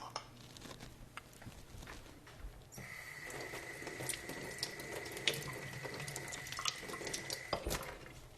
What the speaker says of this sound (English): Let me get some water in a bowl.